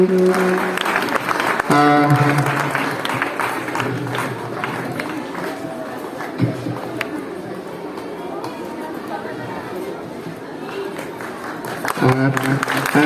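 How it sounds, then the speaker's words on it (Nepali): Students applauding at a school ceremony, a dense crowd clapping that swells, holds steady and rises again, with voices and chatter mixed through it. "साथै सम्पूर्ण विद्यार्थी भाइ बहिनीहरूलाई ताली बजाएर आजको यो अविस्मरणीय क्षणलाई अझै शोभामय बनाइदिनु हुनका निमित्त म अनुरोध गर्न चाहन्छु"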